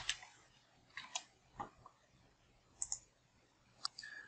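A computer mouse clicks on items in a custom list view, giving a few soft, faint, isolated clicks spaced irregularly over a quiet background.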